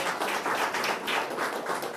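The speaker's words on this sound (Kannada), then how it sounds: "ಅವ್ರಿಗೊಂದು ಜೋರು ಚಪ್ಪಾಳೆಯನ್ನು ಕೊಡಿ" An audience claps at a school gathering where former pupils honor their teachers: steady, sustained applause from a sizeable crowd, fairly loud and even throughout, with no talking over it.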